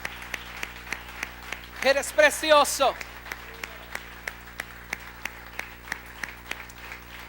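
A church congregation claps in a steady rhythmic beat, with sharp, evenly spaced claps running under a voice speaking and briefly singing out.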